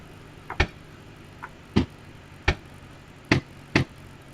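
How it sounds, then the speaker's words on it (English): A Mark I Spitfire's mismanaged engine backfires in a flight simulator flyby view: five sharp, irregular pops crack over a low, steady engine drone. "I've got a right lot of backfiring and stuff going on there, because I'm not managing the engine properly"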